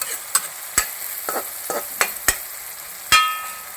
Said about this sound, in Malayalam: ഇഞ്ചിയും എല്ലാം വാടട്ടെ ഇങ്ങനെ ഇളക്കി കൊടുക്കുക